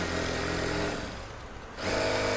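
A sewing machine stitching gold fabric for thread piping, a continuous buzzing whir that dips briefly and then picks up again at full speed.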